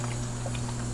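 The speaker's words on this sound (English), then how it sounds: "Now we're filling up with water on our water valve" An ice machine's trough fills with water through its water valve: a soft, steady trickle and patter of water over a constant low electrical hum, close and continuous.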